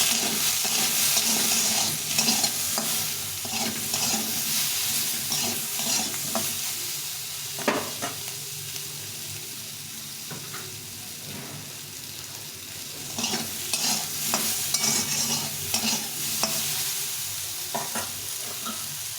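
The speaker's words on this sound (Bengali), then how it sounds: "লবণ আর একটু হলুদ গুঁড়ো দিয়ে এটাকে ভালো করে ভেজে নেব" Pea greens fry with salt and turmeric in a pan, a constant soft sizzle broken by repeated scraping stirs of a spatula, close and fairly quiet.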